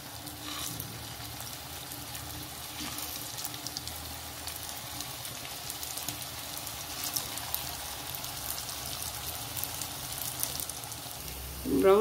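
Patties sizzle in oil in a steel pan over medium heat, a steady crackling fry with faint pops running throughout, with a brief clatter at the end.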